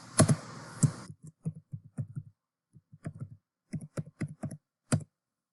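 Login details being typed on a computer keyboard: a burst of fast clicks, then steady separate keystrokes in short uneven runs, close and crisp, with no voices.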